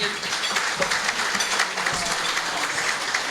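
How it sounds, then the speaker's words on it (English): An audience at a regional sports awards night applauding an award winner, a dense wash of clapping from a crowded room, steady and fairly loud throughout. "Please give everybody a round of applause for Brett Ellen."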